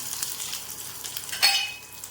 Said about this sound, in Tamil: 2 சின்ன வரமிளகா, உளுந்து, இப்போது வெங்காயம் போட்டுக்கிறேன்.